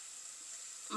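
Sliced onions, about 500 g cut lengthwise, sizzle in a pan with salt and turmeric for spicy-sweet Sri Lankan seeni sambol; a steady soft hiss runs throughout, with a brief louder stir or clatter right at the end.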